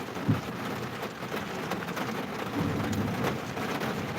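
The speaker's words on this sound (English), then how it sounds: "That is a big old bolt of lightning" Steady rain with rumbling thunder during a thunderstorm in Denver, a continuous wash of rainfall with a low rolling rumble swelling partway through, heard without voices.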